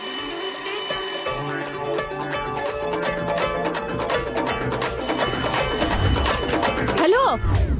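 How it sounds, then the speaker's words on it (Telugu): An incoming call makes a phone ring in repeated electronic trills during a tense action scene, with music and a voice underneath and a sweeping tone near the end. "ఇంకో నెంబర్ నుంచి మనం ట్యాప్ చేస్తున్న నెంబర్ కి కాల్ వస్తుంది సార్"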